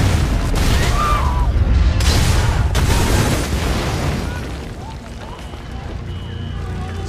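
A heavy, rumbling blast roars and then slowly decays into low debris noise and scattered crackles, with brief voices mixed in. A car bomb exploding in a sedan.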